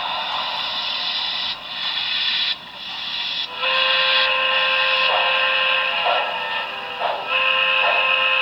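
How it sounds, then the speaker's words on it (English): Model N&W steam whistle from the Paragon 2 sound decoder in an HO steam locomotive, loud and close, blown in several long and short blasts with brief breaks and a hissy, chord-like tone. "The whistle you heard is another one of the N&W whistles"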